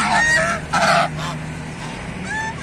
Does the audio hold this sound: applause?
no